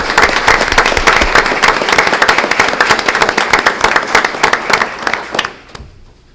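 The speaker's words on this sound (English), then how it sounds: "And one last round of applause for our Central Office and department staff." Loud, close applause at a school board meeting for central office and department staff: a dense burst of sharp, crackling claps that thins and fades away near the end.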